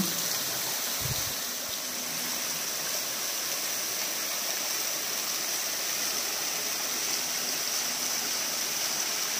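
Mountain waterfall and stream at Lepcha Falls, a constant dense rush of falling and flowing water filling the scene evenly from start to finish.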